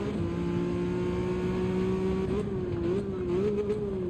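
A Peugeot race car engine in Gran Turismo 7 at Daytona holds a steady, loud, droning note. It rises and wavers in pitch toward the end as the car accelerates and brakes.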